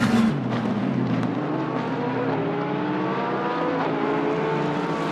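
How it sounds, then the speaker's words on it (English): A McLaren race car in an endurance series race sounds loud and continuous, its engine and exhaust note sweeping up and down through downshifts with a buzzing, layered tone. "Nice little flare of the exhaust gases coming out as he goes and downshifts. I do like the sound from this McLaren."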